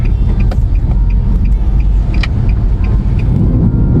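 A 2015 Nissan Grand Livina X-Gear with CVT automatic drives on the road, giving a steady low rumble of engine and road noise from inside the cabin, with a few faint ticks and clicks over it.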